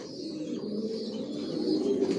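Imported racer pigeons of a Johnson line coo in a continuous low murmur that builds slightly toward the end, close by and moderately loud, with no voices.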